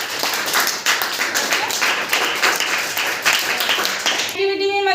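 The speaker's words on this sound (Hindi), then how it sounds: "जोरदार तालियां हो जाइए इनके लिए।" A classroom of students bursts into loud, dense clapping for classmates during a mathematics lesson. The steady applause holds for several seconds and stops abruptly, leaving a short tonal chime at the end.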